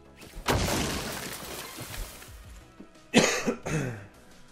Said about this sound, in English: This freaking cough.